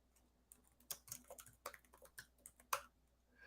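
Sparse, irregular keystrokes on a computer keyboard, typed while entering an Ubuntu 22.04.1 version; soft, close clicks in short bursts with small pauses against a quiet room hum.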